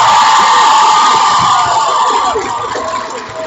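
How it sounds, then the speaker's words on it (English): A large convention audience bursts into loud, sustained cheering and applause, a dense roar of shouts and whoops that fades slightly toward the end. "I think we should all stand up, turn around, and applaud that man's filmmaking."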